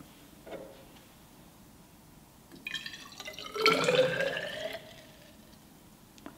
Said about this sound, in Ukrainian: Переливаємо воду з пляшечки у мензурку.